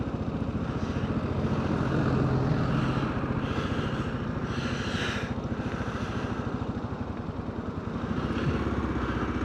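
A motorbike engine drones steadily while riding at Te Kamo, New Zealand, a continuous close buzzing hum with slight swells in pitch, no talking.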